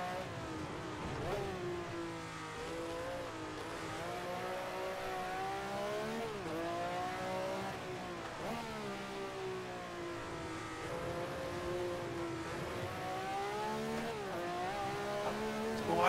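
A race car in the Assetto Corsa video game laps the 1967 Nürburgring, its engine droning steadily and loud throughout, rising and falling in pitch as it revs through gear changes.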